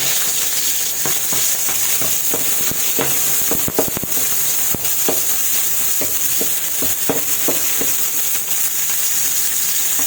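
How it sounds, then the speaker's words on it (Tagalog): Onion sautéing in hot oil for a home-cooked tuna dish, a loud continuous sizzle broken by frequent crackles and pops and spatula scrapes throughout, with no voices. "Lalagay na ako ng oil. Igisa ko lang sibuyas."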